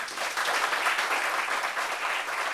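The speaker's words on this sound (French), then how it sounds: "Et ça s'applaudit." An audience at a gathering applauds with dense, steady clapping that holds evenly throughout.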